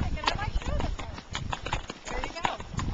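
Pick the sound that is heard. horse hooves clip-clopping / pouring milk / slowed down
horse hooves clip-clopping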